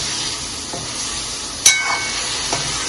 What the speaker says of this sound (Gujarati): આ બધું સામગ્રી એટલે એની અંદર બોઇલ કરેલા વેજીટેબલ્સ નાખી દેવાના. પછી એમને મિક્સ કરી દેવાનું.